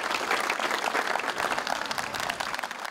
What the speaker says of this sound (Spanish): solo interrumpido por los aplausos al término del minuto de silencio